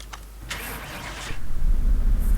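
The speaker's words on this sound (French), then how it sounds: "Elle a démarré au premier coup de clé" A car engine in Car Mechanic Simulator cranks and catches on the first turn of the key, settling into a steady low idle hum that grows louder after a brief whirring start.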